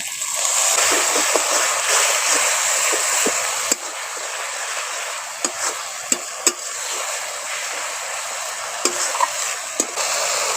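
Chopped tomato, a little spice paste and water hit hot oil for a chicken curry with potatoes, giving a loud spattering sizzle punctuated by sharp clicks and scrapes of a spoon against the pan.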